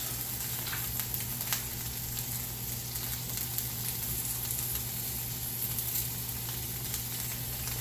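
Brown gravy mix is stirred into boiling chicken stock in a pot, giving a steady low bubbling and sizzling bed of sound with faint scrapes from the stirring and no talking.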